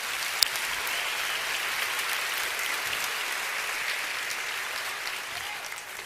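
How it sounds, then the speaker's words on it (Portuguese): A congregation at a church service applauds in a dense, continuous roar of clapping hands, loud and even from start to finish, with faint crowd voices blended underneath. "Se é para Jesus, você pode aplaudir."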